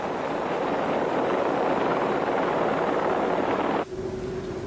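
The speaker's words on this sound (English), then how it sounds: "Ex-department's helicopter, call sign India 99, uses a heat-seeking camera to search the park for the fleeing car thieves." Police helicopter, call sign India 99, hovering over a park at night during a search for fleeing car thieves: a loud, steady, close rotor and turbine roar that drops sharply near the end, leaving a thinner hum with a steady tone.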